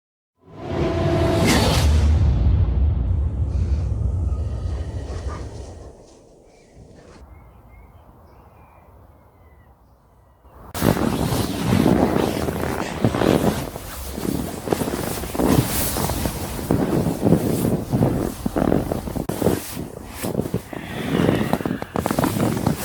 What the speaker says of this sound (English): That is my foot rubbing on the side wall of this tent.